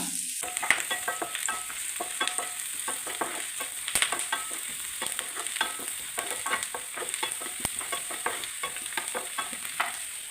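Dried red chillies and curry leaves frying in a pan give a soft, steady sizzle, with light scraping and stirring clicks scattered through it and no voices.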